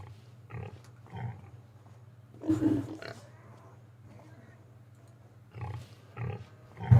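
Pigs on a Ray County farm at harvest time grunt quietly in scattered bursts over a steady low hum, fairly distant and faint.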